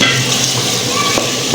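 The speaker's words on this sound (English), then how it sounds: "At this point we're gonna add our potatoes." Steady loud sizzling and frying as potatoes go into a pot of lentil stew, with faint stirring clatter over the continuous hiss.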